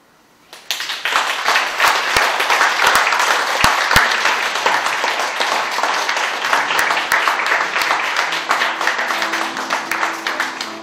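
An audience at a memorial book concert breaks into sustained applause, dense loud clapping that starts abruptly and carries on steadily for about ten seconds with no talk.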